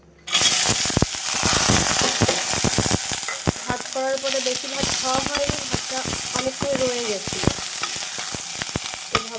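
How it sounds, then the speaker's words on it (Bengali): Rice and egg sizzle loudly as they fry in a pan, with a steady crackling hiss and scattered scraping and clinking of a spatula against the pan throughout, close and continuous. "তাহলে ভাতটা দিয়ে ডিমটা দিয়ে ফ্রাই করি"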